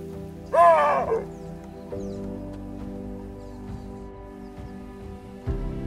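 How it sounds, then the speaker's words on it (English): A Cape baboon calls once in the Luangwa Valley woodland near rocky outcrops in early morning, a loud, sharp two-part bark rising then dropping, followed by faint ambient rustles and low background hum. "It's the call of the Cape baboon"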